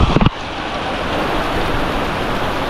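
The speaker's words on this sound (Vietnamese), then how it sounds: "Hiện tại là trên núi Cấm mưa lớn lắm cô chú ơi" Heavy rain pours down on Cam mountain, a dense, steady hiss of falling water that stays loud and even after a brief burst of handling noise at the start.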